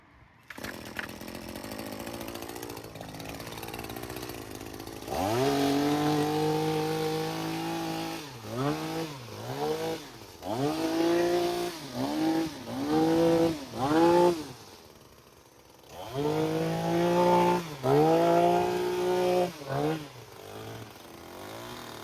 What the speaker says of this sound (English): right now, I'm going to show you, you can go thick when it comes to these hedge trimmers